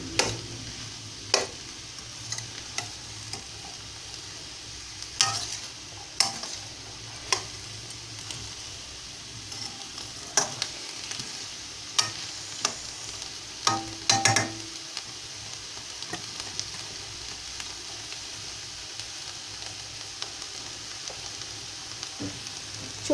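Mutton curry sizzles and fries steadily in a pan over medium flame. Occasional sharp ticks and scrapes from stirring stand out above the constant close crackle, and no one speaks.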